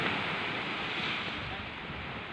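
Steady roaring wind buffets the microphone during rain at a beach on Samal Island, Philippines, a constant broadband rush with no other distinct sounds.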